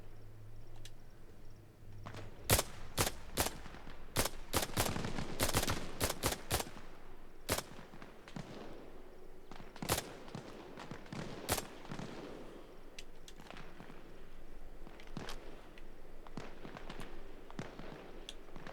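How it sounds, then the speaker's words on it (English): Gunfire in the Arma Reforger conflict on the Everon map: a long run of sharp shots, single cracks and short bursts, some close and loud, others more distant, over steady background ambience with no talking. "We're taking fire from over there."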